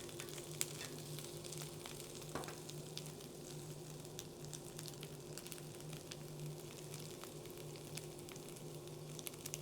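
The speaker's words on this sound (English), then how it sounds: "let these get grilled up" Carrot dogs sizzling on an outdoor grill, a continuous soft crackle and hiss with scattered pops, steady and fairly quiet, no voices.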